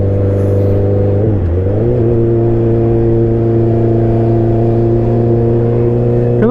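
A drag-racing rider's motorcycle engine idles loudly and close by, dips and surges in a quick rev blip, then settles into a steady, heavy drone.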